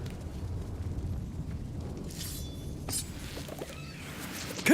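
A Confringo blasting spell from Hogwarts Legacy erupts in a few loud bursts against steady game rumble, with a sharp final blast at the very end.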